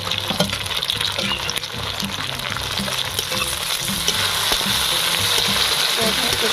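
Chopped tomato goes into softened onions frying in a pan for egg omelette curry, a steady close sizzle with soft stirring scrapes that grows slightly fuller toward the end.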